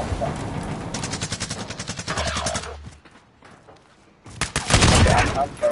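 Video game gunfire in rapid automatic bursts and volleys, loud and close, dropping to near silence for about a second before another heavy burst erupts.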